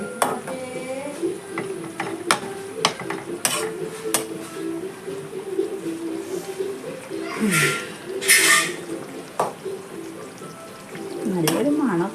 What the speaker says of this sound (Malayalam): അപ്പോൾ ഇതൊന്ന് നന്നായിട്ട് തിളച്ച് ജസ്റ്റ് ഒന്ന് കുറുക്കി വരണം.